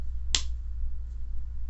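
A single sharp hand clap like a film slate, crisp and close, standing alone against a low steady hum in a quiet bedroom.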